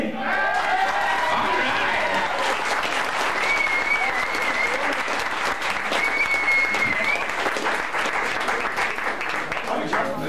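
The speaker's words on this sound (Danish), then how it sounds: "Jeg gad vide, hvordan fanden det lyder, når alle klapper på én gang på samme tid." Audience at a concert clapping all together, a loud continuous roar of applause from a crowd filling the whole stretch, with scattered voices and whistles mixed in.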